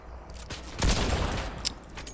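Gunfire in a first-person video game, where an enemy positioned below is shooting at the player: a few short, sharp shots spread across about two seconds, one heavier burst near the middle, over a low steady background hum, with no talking.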